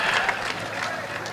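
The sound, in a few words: audience clapping at a folk song event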